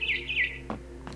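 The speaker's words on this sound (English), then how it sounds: "Then I heard chirping outside my window." A barn swallow chirps outside a window at night in the video game What Remains of Edith Finch, a run of bright, close, high-pitched tweets followed by a couple of short, softer calls.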